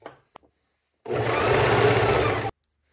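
A sewing machine stitches piping onto a suede knit pajama blouse in one continuous close whirring run of about a second and a half. Faint handling clicks come before it and silence follows.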